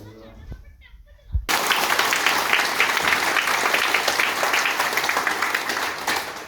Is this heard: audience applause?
yes